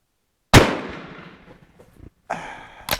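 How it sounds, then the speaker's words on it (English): Two sharp rifle shots from a Dutch Beaumont model 1871/79 crack close and loud outdoors, the first ringing off into a long echoing decay, the second following about two seconds later. "I'm just shooting for groups right now."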